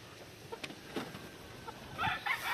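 Gamefowl chickens stressed by the heat cluck in short scattered bursts, with a sharper, louder run of calls near the end over a quiet background.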